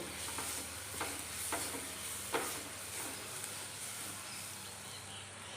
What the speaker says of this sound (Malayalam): നമുക്കിതൊന്ന് വഴറ്റിയെടുക്കാനായിട്ട് ഒരു രണ്ട് മൂന്ന് മിനിറ്റ് ഒന്ന് ജസ്റ്റ് ഒന്ന് വഴറ്റി ഇത് മൺചട്ടി ആയതുകൊണ്ട്